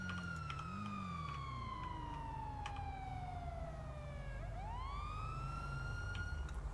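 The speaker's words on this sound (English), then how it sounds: "I don't think there's going to be any running from these sirens." Police sirens in the video game GTA 5 wail in a long falling-then-rising sweep over a steady engine drone, moderately loud and with no talk.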